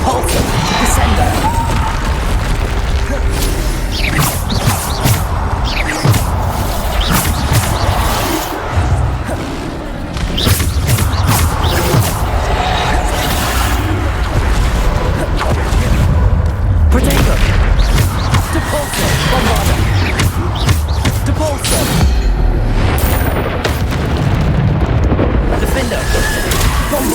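Spells explode repeatedly in a Hogwarts Legacy battle, with loud booming blasts, crashes and rumbling layered nonstop over a long stretch while a voice calls out spell names.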